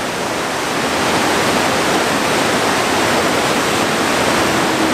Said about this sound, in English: that was lots of rapids and falls